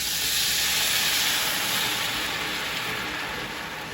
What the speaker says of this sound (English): let me go in with the vegetable stock